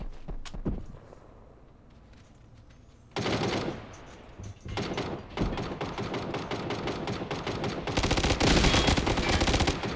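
Gunfire in the battle royale video game PUBG: a couple of sharp single shots, then a pause and sustained rapid automatic bursts that grow louder and denser toward the end, with light footsteps mixed in.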